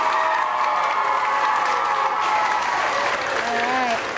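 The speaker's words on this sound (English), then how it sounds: "let's give Officer Doug one huge round of applause" At an elementary school DARE graduation, the crowd gives a police officer a big round of applause, a steady, loud roar of clapping and some cheering, with children's voices audible through it.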